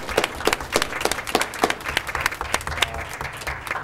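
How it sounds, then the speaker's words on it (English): Elementary school staff at a board meeting applaud in a brief, fairly close round of scattered clapping from a modest group, its rhythm uneven. "give themselves a round of applause"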